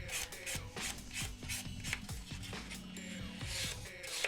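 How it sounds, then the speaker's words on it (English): A buffer is rubbed over an acrylic nail surface in quick, repeated strokes, producing faint, close scratchy swishes at a steady pace. "you can buff to remove any small scratches"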